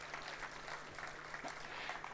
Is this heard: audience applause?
yes